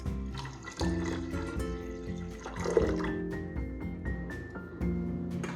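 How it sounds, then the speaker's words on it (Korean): Water pours and splashes into a pot of washed, soaked barley being readied for boiling as a kimchi broth base; a steady liquid gurgle with shifting tones, close and moderate, no talk. "깨끗이 씻어 불린 보리쌀을 3배 정도의 물을 붓고 끓여 푹 익힙니다."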